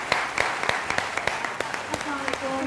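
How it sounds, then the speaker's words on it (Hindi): Scattered, uneven clapping from a studio audience greeting guest judge Nadia Jamil on a Pakistani drama review show, with a voice coming in near the end. "तो एक दफ़ा भरपूर तालियां नादिया जमील के लिए"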